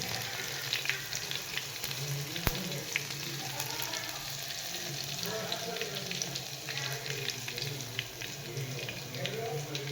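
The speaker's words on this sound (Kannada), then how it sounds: "ಹಾಗೆ ಬೆಳ್ಳುಳ್ಳಿ ಜಜ್ಜಿಟ್ಟಿತ್ತಲ್ಲ ಅದನ್ನು ಹಾಕಬೇಕು" Crushed garlic hits hot oil in a pan and sizzles continuously and fairly loudly, with crackling spits throughout and one sharp clack of a utensil.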